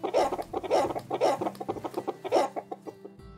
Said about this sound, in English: need more chicken sounds?